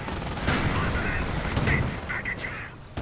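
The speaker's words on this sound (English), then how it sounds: "Sticky bombs going off." Sticky bombs burst amid rattling rifle fire in a World War II multiplayer shooter match, a busy stretch of repeated sharp cracks and thuds, some loud and near, some farther off, layered under a commentator talking.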